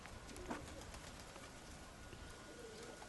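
Pigeons cooing and fluttering faintly at a distance, a soft steady background with one brief brighter call near the start.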